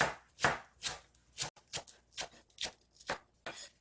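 A knife chops green onion on a cutting board in about a dozen crisp, evenly spaced thuds, close and fairly quiet, with no talk.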